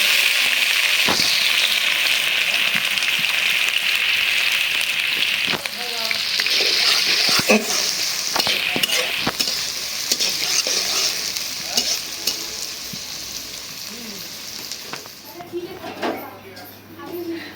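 Onion and chili sizzle in a pan with cinnamon, a bright crackling hiss with sharp stirring knocks, fading somewhat after the first few seconds while a voice talks.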